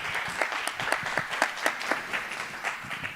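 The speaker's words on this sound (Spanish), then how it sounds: "Un aplauso." Applause from an audience at the close of a talk on designing artificial coral reef habitats, a steady crackle of many hands clapping with irregular louder claps standing out over roughly three seconds.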